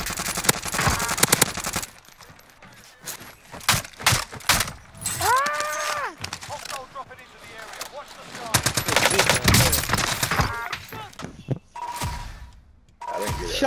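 Bursts of automatic gunfire from the Warzone video game crackle in rapid rhythmic volleys across the clip, broken by a brief tonal in-game sound and pauses, with game effects filling the background.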